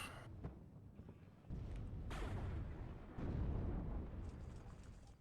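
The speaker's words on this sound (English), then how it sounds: "Smoke mortar is coming in for Fence here to regain control" Smoke mortar artillery fire in a competitive real-time strategy video game finals match: deep booming impacts land in sequence, the strongest around the middle and end, over a continuous low battle rumble.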